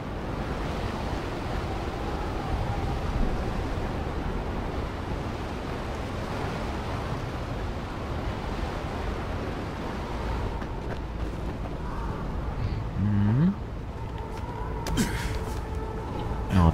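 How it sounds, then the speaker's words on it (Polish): Steady sea surf rolls through the Dying Light video game, a constant broad wash of waves with a windy hiss. Faint metallic knocks and footstep-like clicks from the game come near the end. "Ale ładne morze."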